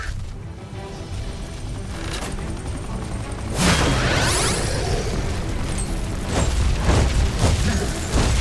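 An explosion bursts out in the video game Skylanders Imaginators, a loud rumbling blast that erupts midway and leaves a dense crackling, rolling roar with scattered pops continuing to the end.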